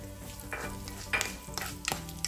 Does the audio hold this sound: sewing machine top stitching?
no